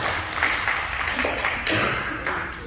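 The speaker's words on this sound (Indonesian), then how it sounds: "Kita beri tepuk tangan yang baik buat Tuhan." A church congregation claps together at a Sunday worship service, a steady moderate patter of applause lasting throughout with faint voices mixed in.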